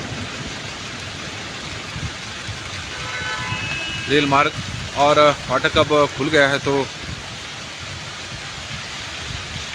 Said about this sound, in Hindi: बारिश झमाझम सोलन में पूरे हिमाचल प्रदेश में